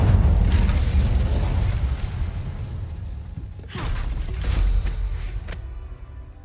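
Casting the Incendio fire spell in Hogwarts Legacy brings a loud rumbling burst of fire and booms, fading, then a second flare of whooshing flame and crackle before it dies away.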